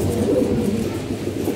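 Pigeons coo steadily and close by in a dense, continuous low murmur, with several birds overlapping; a pigeon loft at feeding time as the sky darkens before rain.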